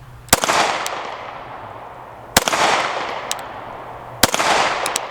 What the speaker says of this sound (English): So I'm going to fold down the gas pedal and we're just going to take some shots.